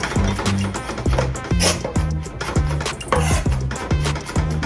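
A knife chops vegetables on a cutting board in a steady run of crisp, close knocks, with a few faster clusters between brief pauses and light clinks of kitchenware.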